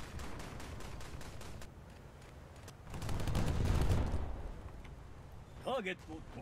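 Naval gunfire from 8-inch guns in a naval combat video game, a rapid series of booming shots building to a heavy rumbling volley, with a voice talking near the end.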